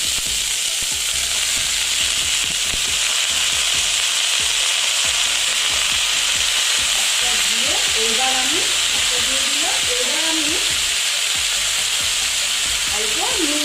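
Washed saag greens hit a hot frying pan with brinjal, giving a loud, continuous sizzle and hiss with stirring scrapes; a faint voice is heard briefly.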